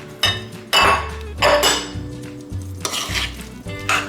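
Guacamole ingredients get stirred in a bowl, a spoon scraping and clinking against the sides in several uneven, fairly close strokes.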